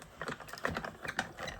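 Paper and a die rolling through a Big Shot die-cutting machine make a quiet, close series of soft clicks and ratchety taps, like a hand crank turning in short steps.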